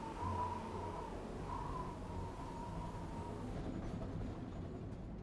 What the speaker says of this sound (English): Oh, that's a good looking train though.